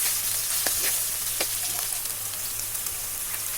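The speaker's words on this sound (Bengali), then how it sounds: "রসুন দিয়েছি, ভেজে নিচ্ছি।" Whole garlic cloves and ginger paste fry in a pan with a continuous crackling sizzle, and scattered sharp pops and spits stand out over the hiss.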